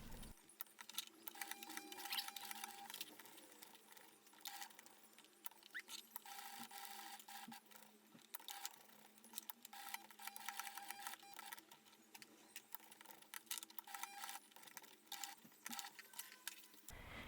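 A sewing machine stitches a handbag strap in a continuous, rapid, faint mechanical patter close by, with small metallic clicks and no talk.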